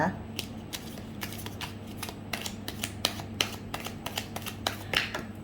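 Tarot cards are shuffled by hand in quick, crisp riffling bursts, some cards flicking loose, close and steady over a low background hum.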